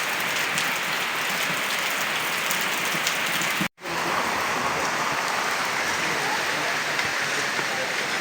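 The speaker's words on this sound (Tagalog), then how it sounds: "Grabing ulan na to." Heavy rain pours down in a dense, constant hiss that drowns everything else, cutting out for a split second midway before resuming at full force.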